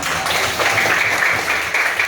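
Schoolchildren in an Indonesian classroom break into a quick round of clapping, a dense, bright patter filling the room for a couple of seconds.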